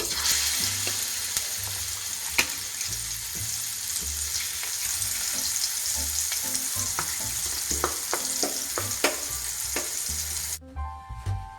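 Backwater fish fries in a pan, a steady loud sizzle and crackle of oil with occasional stirring clinks, continuing alone without any voices before a sudden cut near the end.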